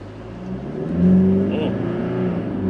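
A 2016 GMC Canyon Duramax diesel pickup accelerates at full throttle during a 0-60 mph run, its engine droning up and swelling louder, then holding a steady roar from inside the cab.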